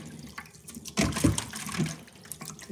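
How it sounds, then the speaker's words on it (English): Sea moss swished by hand in a bowl of water to rinse off salt, giving soft sloshing and splashing with a louder surge midway, close and alone. "I'll put enough water in there first and literally just swish it around to get a lot of that salt off"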